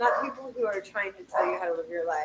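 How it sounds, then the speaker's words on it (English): Dogs bark in short bursts in the background while a person keeps talking over them at close range. "Sorry about my dogs."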